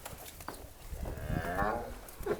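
A loud, drawn-out buffalo moo with a rising, wavering pitch, close by, over low background murmur.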